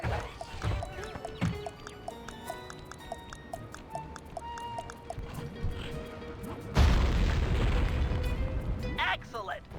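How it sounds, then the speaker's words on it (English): A dynamite explosion goes off in Sly 3 about two-thirds of the way through, a sudden loud booming burst with a rumbling tail. Before it, a game music melody plays with a brief spoken line. "Place the dynamite when you get near the anchor, or kaboom!"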